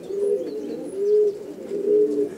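Pigeons coo softly inside a loft in a Parraga pigeon keeper's coop, three low rolling coos rising and falling close by, with faint rustling and no talking.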